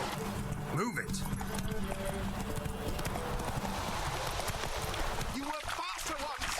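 Roach the horse gallops in The Witcher 3 with a quick, even clip-clop of hooves throughout. Someone shouts and talks over the hoofbeats.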